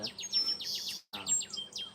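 Small birds chirp and tweet outside a window by a bird feeder, giving quick repeated high calls that overlap steadily, with one brief pause partway through.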